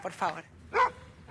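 A small dog gives a few short, sharp barks in a home, close by and mixed with people talking.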